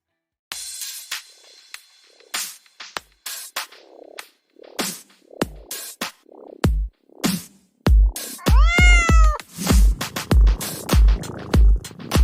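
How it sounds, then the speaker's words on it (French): A cat meow sound effect added in a Canva video sounds among a busy run of sharp clicks, pops and short effects, with a clear wavering meow partway through and rhythmic thumps after it. "cliquez sur l'effet sonore du chat"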